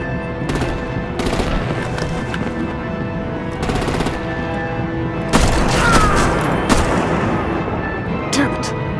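Rapid machine-gun bursts and heavier artillery booms from the Batman The Enemy Within video game crackle and thud close by in a sustained battle, with voices talking over the gunfire.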